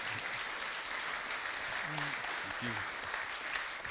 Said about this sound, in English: So another round of applause for...